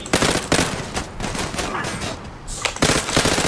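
Gunfire in the Zula first-person shooter video game, with loud, rapid bursts of automatic fire and shots in quick succession, a short lull, then more bursts.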